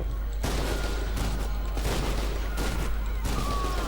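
Gunfire in the video game Titanfall 2: loud, rapid bursts of shots in quick succession, with short gaps, continuing throughout over a dense, constant low rumble.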